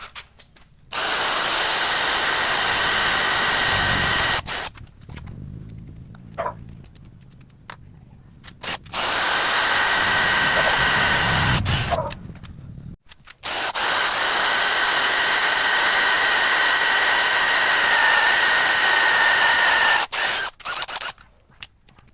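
DeWalt drill boring a door-knob hole through a door using a drilling jig: three long, loud, steady whining runs separated by brief pauses and clicks.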